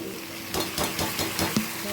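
Boiled banana flower being stir-fried in a pan with chickpeas, a soft sizzle broken by several scraping stir strokes, close and fairly quiet.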